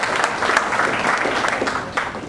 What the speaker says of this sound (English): if you want to give a warm round of applause to Mark